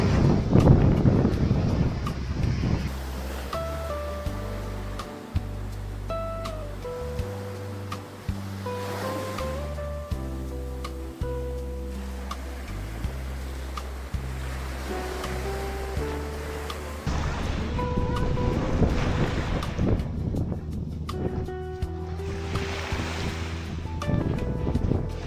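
Ocean waves wash onto a Maldives island beach under wind buffeting the microphone. Surf swells rise and fall across the whole stretch while steady low tonal hums run underneath.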